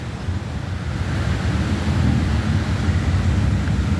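Outdoors at a small cemetery, wind blows steadily against the microphone and an American flag, a loud, continuous low rumble and roar with no distinct flapping.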